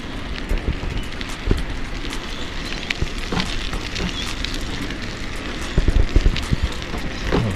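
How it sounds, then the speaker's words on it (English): Heavy, non-stop rain falls in Jamaica as a dense, steady wash of noise broken by irregular close knocks and splashes. It grows louder toward the end, with no one talking. "Non-stop rain today guys."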